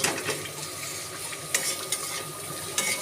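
Spice masala for prawn malai curry fries and is stirred in a pan, a continuous sizzle punctuated by a few sharp spatula scrapes and clinks against the metal.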